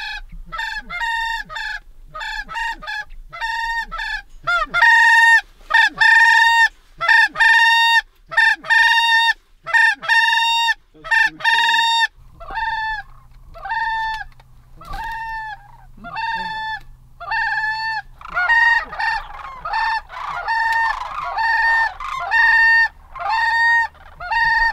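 Sandhill cranes calling in Texas, repeated loud rattling bugles in quick bursts, several birds overlapping near and far, with a low hum entering partway through.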